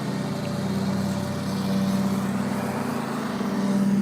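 A lawn mower engine runs continuously in the background with a steady, low droning hum, fairly loud and unchanging throughout.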